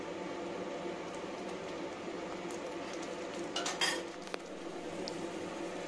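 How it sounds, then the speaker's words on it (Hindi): Spinach paneer gravy stirred in a pan with a utensil, giving soft scraping and occasional metallic clinks over a steady low bubbling hiss, with a brief louder clatter near the middle; no one speaks. "अच्छी तरह मिला देंगे और फिर से कवर करके दो तीन मिनट तक कुक करते रहेंगे।"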